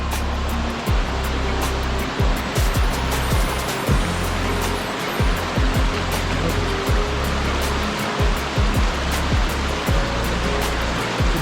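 The stream and waterfall at Hareshaw Linn rush steadily and loudly beside a small footbridge, a dense continuous roar of falling water with faint knocks of footsteps and no talking.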